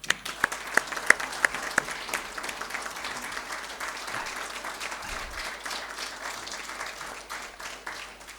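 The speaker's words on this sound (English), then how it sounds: "Let us give a big round of applause to Ambassador Rasgotra." An evening audience at a panel discussion applauds Ambassador Rasgotra: a few sharp early claps swell into sustained, moderately distant applause from a large crowd, fading slightly toward the end.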